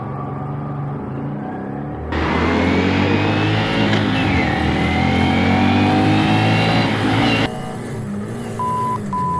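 A 2025 Honda Grom motorcycle engine revs while riding, loud and close, rising through a strained stretch of acceleration before dropping back, with wind rushing over the engine.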